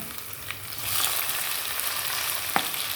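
Onions and tomato sizzle steadily in a hot pan for a small-onion sambar, with a couple of brief stirring clicks over a continuous frying hiss and no voices.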